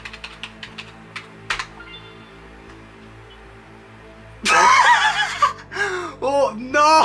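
Typing on a computer keyboard in Microsoft Word on a Windows 2000 machine, a handful of quick scattered key clicks up close, followed by a sudden loud burst of laughing and talking that drowns out the keys.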